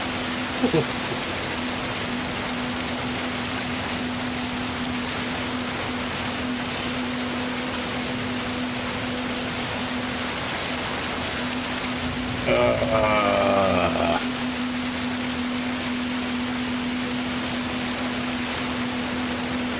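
Steady rain hiss in the racing video game Gran Turismo 7 at Le Mans, with a constant low hum throughout and a brief warbling sound partway through.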